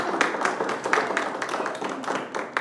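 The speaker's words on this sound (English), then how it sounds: "Give a round of applause to our panelists." A modest town hall audience claps for panelists, with distinct, fairly sparse hand claps in an uneven rhythm, close and moderately loud, with no talk over them.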